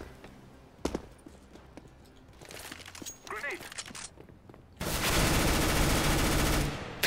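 Gunfire from the video game Counter-Strike: Global Offensive: a sharp early shot, then a burst of noisy game sounds, and finally a loud sustained blast of rapid fire for the last couple of seconds, with speech mixed in.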